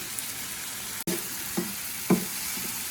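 Tomato masala fries quietly in a pan for vanjaram dried fish thokku, a soft steady sizzle broken by a few light scrapes and taps of stirring.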